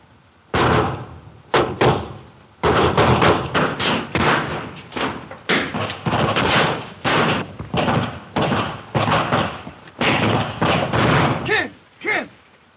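Gunshots fired in a 1931 western film scene, a rapid irregular volley of sharp loud bangs, many in quick succession, with brief pauses between bursts.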